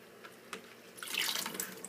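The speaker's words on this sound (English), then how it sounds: "So it's very easy to wash the cilantro." Cilantro is swished around in a bowl of water, giving soft splashes and drips, faint and close, with a brief burst of sloshing midway.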